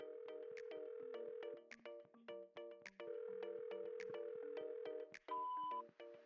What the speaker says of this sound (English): Why don't you call your phone using mine? Maybe it'll ring